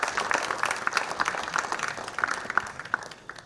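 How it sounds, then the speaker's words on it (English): An audience claps for a children's performance at a Jnanasarovara founders day celebration, a short burst of scattered applause that sounds fairly distant and thin and fades toward the end. "Give a big applause to my children."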